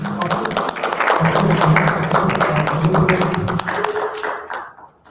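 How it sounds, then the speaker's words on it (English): A panel discussion audience applauds steadily for about four seconds, dense clapping that fades out near the end, with a voice speaking over it. "Round of applause, please, for Gaurav Ben."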